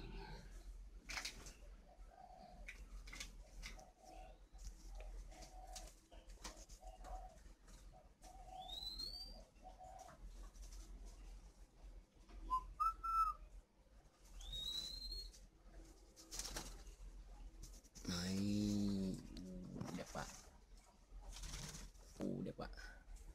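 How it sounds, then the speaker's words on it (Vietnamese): A spotted dove gives scattered, soft cooing calls at a distance, mixed with occasional bird whistles and faint background voices. "những khoảnh khắc về những con chim cu gáy này"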